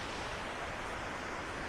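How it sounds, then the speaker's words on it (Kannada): Loud, continuous roar of a river rushing in full spate near a waterfall in the Western Ghats on the Nethravathi peak trek, a dense unbroken wash of water noise heard close up with no voices. "ಎಷ್ಟು ಬೋರ್ಗರದ ಹರಿತಾ ಇದೆ ನದಿ."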